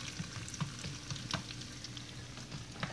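Food browns in a frying pan with a soft, continuous sizzle and scattered small pops and crackles. The sound stays fairly quiet and close, with no talking.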